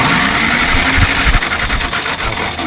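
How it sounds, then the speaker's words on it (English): A 1953 Willys Jeep engine with sticky exhaust valves being cranked over without ignition, giving a loud, steady mechanical churning with rhythmic pulses from the starter turning the motor, close up and continuous throughout. "I think I don't need the ignition on to crank it."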